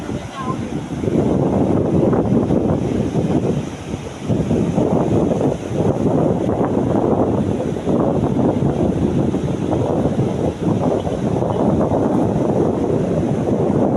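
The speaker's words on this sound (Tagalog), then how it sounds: "Sarap ng hangin" Strong wind roars and buffets steadily and loudly, a continuous low rush with a brief lull, near rough, choppy open water.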